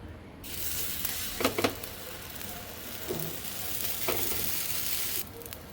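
Dosa batter made from ration rice, without jaggery, hits an oiled hot pan and gives a broad, steady close sizzle with a few brief scraping clicks from a ladle. The sizzle cuts off near the end.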